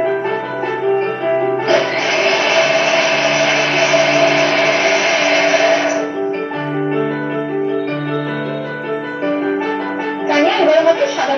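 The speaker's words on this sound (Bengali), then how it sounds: "এটাকে মিক্সিতে পেস্ট করে নেব।" A kitchen mixer grinder runs steadily, loud and continuous, whirring spices and a little water into a paste, with a harsher surge partway through before settling back to a lower drone.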